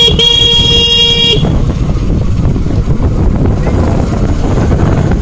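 Rain and wind roar over a low road rumble while an Ola electric scooter is ridden through a wet street, with a brief horn-like tone at the start and continuous loud buffeting throughout.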